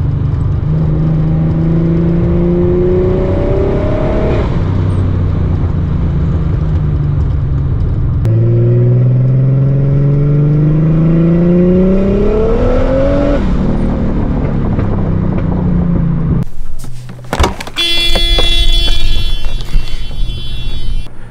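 A turbocharged Mercedes W124 engine revs hard from inside the car, climbing in pitch in two long pulls that each drop back, then a brief break with clicks and a whooshing tail, loud and close with no talk.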